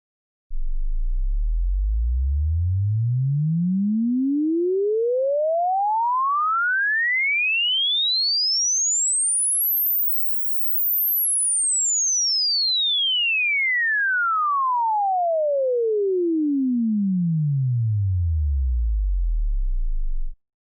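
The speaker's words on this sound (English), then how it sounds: "let's listen to a sine wave sweeping across the frequency spectrum" A pure tone glides steadily from a deep low hum up to a piercing high pitch, breaks off briefly, then sweeps back down to the low end.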